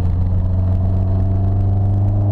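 A Peugeot 205 Rallye engine, about 103 hp, breathing through a 4-into-1 exhaust manifold, Super Sprint line and Vilcon silencer, runs with a steady, loud, close throaty drone that holds evenly throughout.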